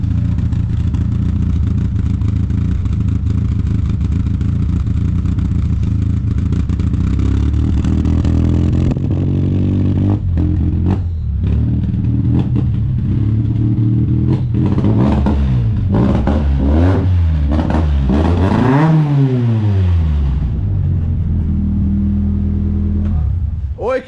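A rally car engine fires up and revs hard, loud and close, with rising and falling sweeps of revving and mechanical clatter over a steady throaty idle, building to a sharp high rev near the end; faint talk lies underneath.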